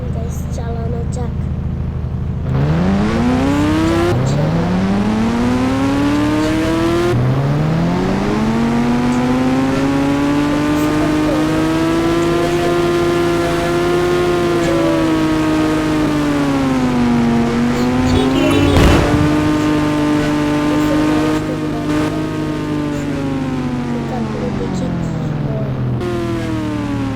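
A Ghost Rider motorbike in a 3D bike riding video game revs its engine in a loud, continuous droning whine that climbs and falls in pitch with repeated throttle swells, and a voice talks over the engine.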